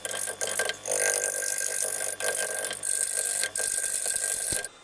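A gouge cuts a wooden yarn bowl spinning on a lathe, giving a loud, continuous rough scraping and whirring broken by several brief gaps where the tool lifts off the wood.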